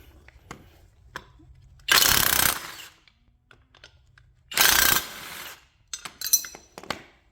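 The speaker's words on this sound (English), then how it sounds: "I'm using an 18mm socket, and I'm going to hold the opposite side tight with just a crescent wrench" An 18mm socket ratchet works a rear trailing arm bolt on a 2008 Pontiac G6. Two short, loud bursts of rapid ratcheting sound up close, followed by scattered light clicks and metallic clanks, with no talking.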